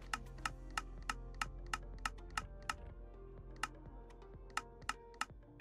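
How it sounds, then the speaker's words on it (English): Dragging the volume slider in the Minecraft Bedrock menu produces quiet, crisp clicks at a steady, fairly quick rhythm, about a dozen and a half over a faint low hum. "Notice the clicking as I drag."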